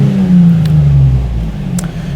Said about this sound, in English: we'll hit the throttle now and we'll see what effect we get now